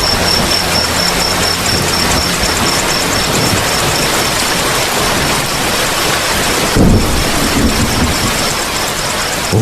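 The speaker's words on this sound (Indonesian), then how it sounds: "Hujan pun datang" Heavy, steady rain pours at night on a mountain campsite, a dense loud hiss with low rumbles of thunder and a brief louder gust partway through.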